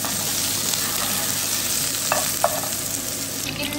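Whole garlic cloves sizzling and browning in hot oil in a pan, a steady close frying hiss with a couple of faint stirring clinks.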